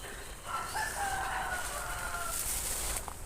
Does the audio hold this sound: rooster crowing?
yes